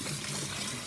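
Fresh herbs are rinsed under running tap water, a steady, even splashing wash that holds at a constant level from start to finish with no voices.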